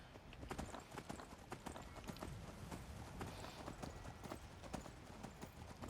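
Horse hooves clip-clop at a steady walking rhythm in a video game, close and continuous across the whole stretch, with a brief snort or whinny-like accent and no talking over it.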